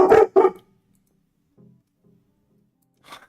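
A dog that is upset by fireworks gives two sharp, loud barks close by, followed by quiet low whimpering sounds and then a faint distant pop.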